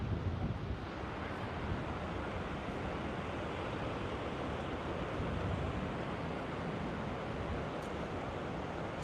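Steady, full-band roar of wind buffeting a microphone, blended with the wash of surf on an oceanfront shore in San Diego, constant and loud throughout with no talking.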